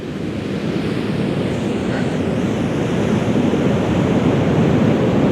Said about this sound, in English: All around this headland here, you can just see the waves crashing.